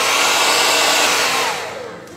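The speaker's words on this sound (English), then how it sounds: "I'm gonna take the hairdryer to the portion I wanna stamp," A hair dryer blows continuously on a painted sign section during a craft project, a loud, close, steady whoosh that tapers off as it switches down near the end.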